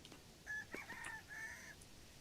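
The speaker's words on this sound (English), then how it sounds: "I hear you, chicken." A chicken in the video game Vintage Story gives a drawn-out, wavering call, faint and alone over a quiet background.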